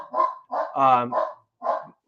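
A dog barks several times in a loud, close, uneven series of short yaps and harsher barks, with brief pauses between them, in a podcast setting.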